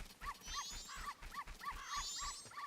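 Several dogs in the Doggy Race of the video game Majora's Mask, giving a rapid run of short yips and barks with some whimpering, repeated in an even rhythm and fairly close.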